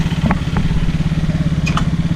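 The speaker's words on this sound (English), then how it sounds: "now I test my moped" A moped engine idles near the microphone with a steady low putter and a light clattering rhythm, and a few faint clicks sit on top of it.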